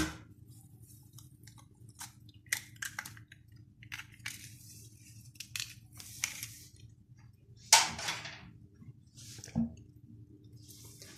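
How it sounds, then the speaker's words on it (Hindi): Fish fry masala paste being mixed with an egg, giving soft wet squishing and sticky smacking sounds in irregular bursts, faint and close over a low steady hum. "अब इन सब चीज़ों को मिक्स करेंगे और मिक्स करने से पहले इसमें 1 अंडा तोड़ के डालेंगे।"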